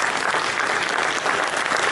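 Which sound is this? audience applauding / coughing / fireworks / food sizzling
audience applauding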